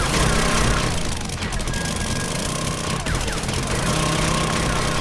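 Auger tool in 7 Days To Die grinding into material near a garage entrance base, a loud, dense rattling drill noise with rapid hammering bursts, continuous throughout.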